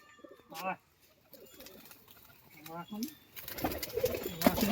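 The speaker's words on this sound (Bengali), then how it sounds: "এই এটা মদ্দা পায়রা" Pigeons in a loft give a few close, low coos in short bursts, while someone talks intermittently and a rougher burst of noise builds toward the end.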